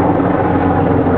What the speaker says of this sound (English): helicopter flying through, guys